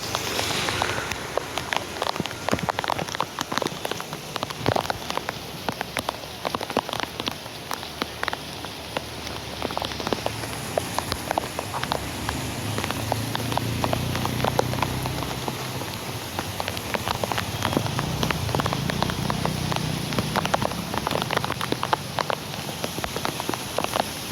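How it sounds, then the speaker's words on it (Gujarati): Steady rain falls and patters on surfaces in a waterlogged street, a continuous dense hiss of drops that stays even and fairly loud throughout. "જોઈ શકો છો તમે વરસાદ"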